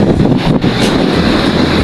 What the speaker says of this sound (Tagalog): Makas na naman kasi ang hanging kamihan